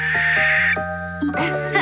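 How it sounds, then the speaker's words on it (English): Barn owl giving a harsh, drawn-out shriek rather than a hoot, loud and close, with a brief break midway before the rasping call resumes. "I think this one is a barn owl,"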